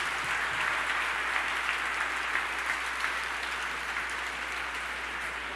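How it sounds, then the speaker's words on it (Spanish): Congregation at a Christian conference applauding steadily, a dense wash of clapping that holds evenly for several seconds with a low hum underneath. "Eso yo creo que merece un fuerte aplauso para el Señor."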